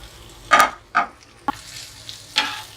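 Beef stir-fried with chilies in a pan, moved in a few separate bursts of stirring and sizzling with short quiet gaps between, fairly close and alone.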